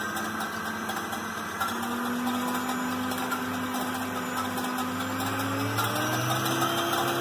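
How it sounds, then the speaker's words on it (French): Stand mixer whipping three eggs with its whisk attachment for an Alsatian Schneckekueche, a steady loud motor whine with a rising tone, running continuously without speech. "Et on va faire partir le robot. Allez. Avec le fouet."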